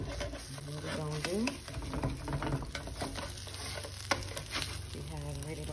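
An omelette stuffed with mashed potato and spicy cheese puffs sizzles steadily in a pan as a spatula scrapes and shifts it, with a light clack near the end and no talk.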